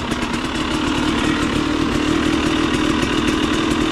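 A KTM EXC 300 TPI two-stroke dirt bike engine runs steadily just after a cold start, a loud, continuous buzzing drone with rapid firing pulses and no talk.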